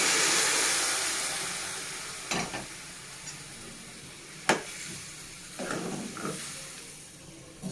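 Boiled chana dal tipped into a pan of simmering bottle gourd curry, giving a steady faint sizzle with a few soft scraping stirs and dull knocks against the pan.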